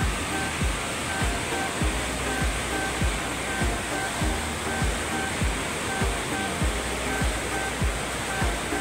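Strong, fast river current after rain near a hillside lot, a dense, steady roar of rushing water with continuous broadband wash and low churning thumps, loud and close with no talk.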